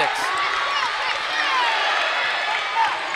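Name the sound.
basketball crowd cheering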